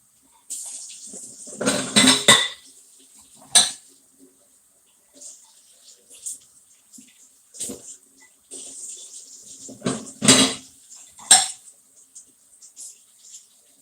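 Dishes washed and rinsed in a kitchen sink under running water, with intermittent bursts of splashing and clattering between quieter pauses.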